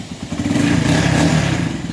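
A Kawasaki Barako motorcycle engine after a rebuild, revving up loudly and close by in a short burst with a rattling, clattery tone.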